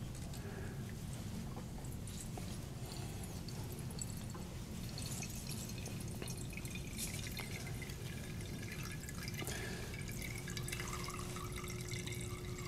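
Water trickles and drips into a lower container as a submerged plastic block displaces it during a physics lecture demonstration, a steady wash of faint splashing and dripping under a constant low hum.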